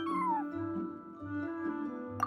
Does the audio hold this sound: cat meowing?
yes